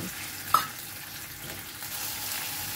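Spice paste with a splash of water sizzles over a high gas flame while it is stirred for a chickpea dish, a steady hiss broken by one short clink of a utensil near the start.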